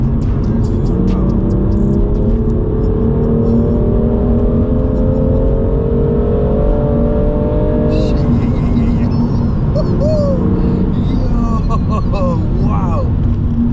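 A BMW M2 Competition accelerating at full power, a loud steady engine drone with rising harmonics climbing as it pulls hard, then easing off, with voices talking over the engine noise inside the car.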